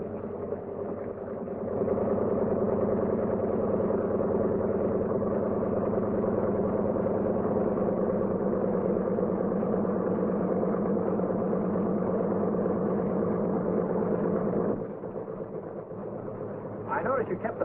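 Radial engines of a C-47 aircraft idle at 1,000 RPM, a steady droning, throbbing hum that holds evenly for most of the stretch before dropping off, with a voice speaking over it.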